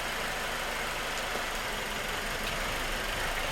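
A Mercedes-Benz C200 engine idles with one cylinder dropped, giving a steady, rough, close-up running tone that stays even throughout.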